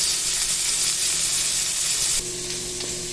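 Beef sirloin cap steak sizzling in a pan just after flipping, a loud, bright, continuous frying hiss close up that drops to a lower sizzle with a faint hum near the end.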